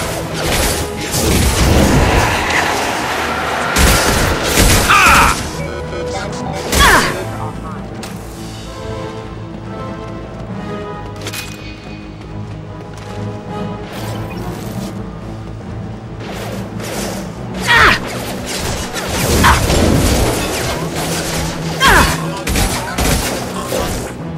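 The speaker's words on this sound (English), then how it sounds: "Taking heavy fire!" A heavy firefight in the sci-fi game Mass Effect 2: repeated crashing bursts and booming impacts over a dense, continuous battle din, with game voices and music mixed through the chaos.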